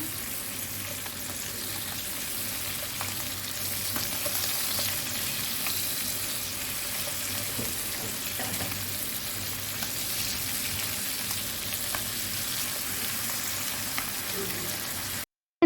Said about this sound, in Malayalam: നമുക്ക് ഒരു സൈഡ് പൊരിഞ്ഞിട്ടുണ്ട്, നമുക്ക് തിരിച്ചിട്ട് കൊടുക്കാം.